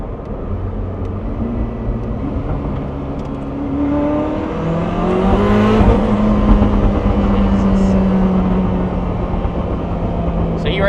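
A Koenigsegg Jesko cruising in eighth gear through a tunnel, giving a steady loud engine drone with a slowly rising and falling tone and a reverberant roar throughout.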